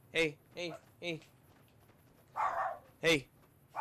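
A pet dog barks indoors, close and loud, with three quick barks, a pause, then a rougher bark and another sharp one, while a person talks nearby.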